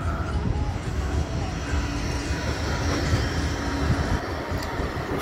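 A tram rumbles past on Blackpool's Central Promenade, a continuous low rolling roar of wheels on rail that holds steady and fairly close, with crowd noise and some faint talk around it.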